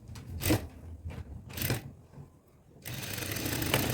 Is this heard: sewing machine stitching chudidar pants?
yes